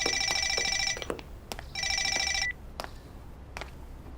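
A telephone rings in two long trilling bursts separated by a short gap, loud and close in a quiet domestic room, with brief clicks and knocks between the rings.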